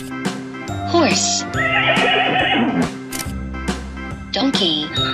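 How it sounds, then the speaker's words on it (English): A horse neighs with a long whinny over a children's song, singing voices and steady musical backing throughout. "Horse."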